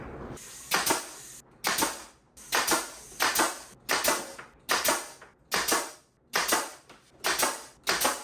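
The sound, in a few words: nail gun firing nails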